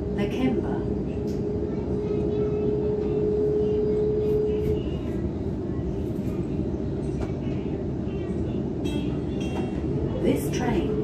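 Loud steady rumble of a Sydney T3 Bankstown Line train in motion, wheels and carriage noise droning throughout, with faint voice-like sounds of an onboard stop announcement mixed in.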